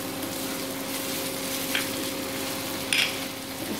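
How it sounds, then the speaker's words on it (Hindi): Ginger garlic paste sizzles in hot oil in a pan for chicken jhingada, a steady, moderately loud frying hiss with a couple of brief scrapes from stirring, no voices. "सबसे पहले हम इसमें ये अदरक लहसुन का पेस्ट डाल देंगे, पूरा का पूरा डाल देंगे इसमें।"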